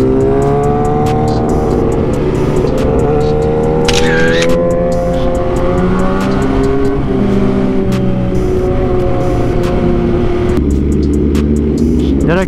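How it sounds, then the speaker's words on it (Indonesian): A motorcycle engine revs steadily, its pitch rising and falling with throttle blips. It sounds loud and close, with a faint voice underneath. "kita kalau hobi motor tuh dengar suara motor aja udah seneng banget guys, apalagi kalau di gas dikit kayak gini"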